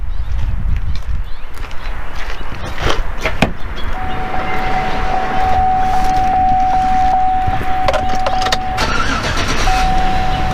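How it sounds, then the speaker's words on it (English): A 2007 Chevrolet Tahoe engine cranks and starts, then settles into a loud, close steady idle with a faint whining tone running over the rumble. "let's go ahead and start the car up"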